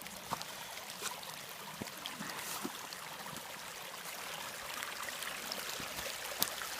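Water rushes steadily beside the Starr Trail near a culvert, a continuous broadband flow of moderate loudness with occasional small splashes and knocks, and no voices.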